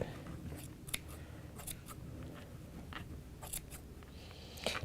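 Sharp snips of scissors cutting through fabric while pinning a children's-size textile pattern, a series of crisp close cuts at an uneven rhythm with no talking.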